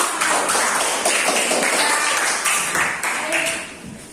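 Audience applause fills the space, a dense steady patter of many hands clapping that tapers slightly toward the end, with some voices mixed in.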